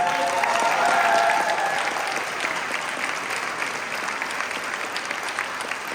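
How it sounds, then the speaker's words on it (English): Audience applause at a Women's Democratic Club rally in Montgomery County for its more than 25 co-sponsoring organizations, a broad, steady wash of clapping that swells early and then holds evenly to the end. "So please give a round of applause to all of these."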